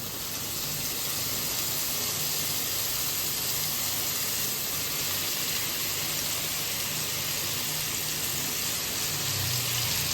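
Steady hissing sizzle of mushrooms frying in a pan for white sauce pasta, continuous and even throughout with no talking.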